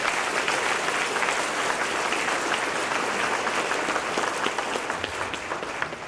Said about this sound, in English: Please give Jeff Palumbo and his family a round of applause